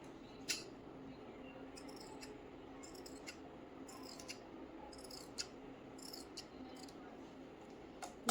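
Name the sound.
scissors cutting blouse fabric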